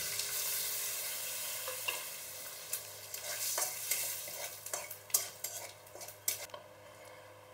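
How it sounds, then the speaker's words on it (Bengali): Dry red chillies, bay leaf and whole cumin sizzle in hot oil as a tempering for a spicy Bengali pangas fish curry. The frying crackle is steady and close, with occasional stirring clinks of a utensil against the pan. "ওই তেলেই দিয়ে দিচ্ছি ফোড়ন, 2টো শুকনো লঙ্কা, তেজপাতা আর গোটা জিরে।"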